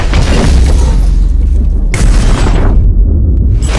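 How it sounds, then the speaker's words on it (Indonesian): A giant horned monster slams into a fleeing jeep in an action film, a loud continuous rumbling crash with heavy booms and rending impacts that swell, drop briefly, then surge again. "Diablos menabrak mobil mereka"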